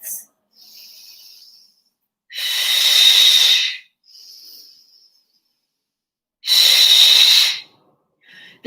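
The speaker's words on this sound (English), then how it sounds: "Deep breaths." Deep, slow breaths during a stretching workout, with two long hissing exhales and softer breaths between them, loud and close with no talking.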